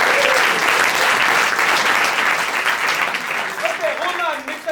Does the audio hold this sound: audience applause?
yes